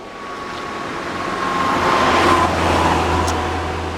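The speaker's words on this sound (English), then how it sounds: "The start of the plastic cars, the Mark IV Golf. The Mark IV Golf GTI." A Volkswagen Mark IV Golf GTI passes on a road, a steady engine and tyre rumble that swells to a peak midway and then eases off, heard alone with no voices.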